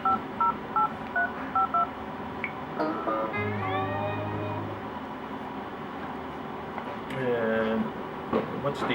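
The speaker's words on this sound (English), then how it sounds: "And we'll try and make a test phone call real quick." Telephone keypad dialing tones from a Samsung Epic 4G during a test call, a quick series of short evenly spaced beeps at the start, followed by warbling line tones and a low hum against background noise.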